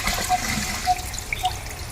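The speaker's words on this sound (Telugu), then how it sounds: "ఇక్కడ నిరంతరంగా పడేటువంటి ఈ శివుడి మీద జలాలు పడుతూనే ఉంటుంది." Water falls steadily onto a Shiva idol at a Kalabhairava temple shrine, a soft close trickle with small splashing drips scattered across the continuous wash.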